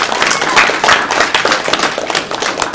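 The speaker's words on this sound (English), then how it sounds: "can you guys give these guys a round of applause real fast?" A convention crowd at a live show at Nerd-Kon gives a round of applause, with dense, continuous clapping that stays loud and close for the whole stretch.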